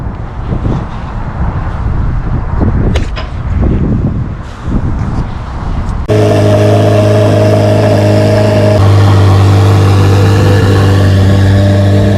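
A new Corvette Z06, just delivered from Bowling Green, is driven off a transport truck: a few seconds of rustling and wind, then a steady, loud engine drone settles in close by and holds without a break.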